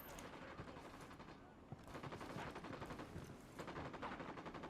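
Dense gunfire crackles through a Ghost Recon Wildlands cutscene, a continuous, overlapping fusillade of shots with brief lulls. It is heard faintly at low volume, with a voice present.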